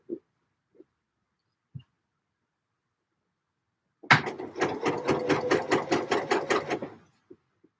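A sewing machine runs in one steady burst of about three seconds, stitching the curved back neckline of a dress. Its needle thumps come in a fast, even rhythm and are heard close after a few faint taps.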